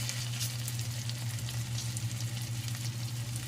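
Salmon steak sizzling in a hot frying pan, a dense steady crackle and hiss close up with a low hum underneath, no voices.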